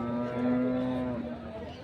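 A cow at a bull and buffalo market lows once in a long, drawn-out moo lasting over a second, fairly close and clear above the faint murmur of the market.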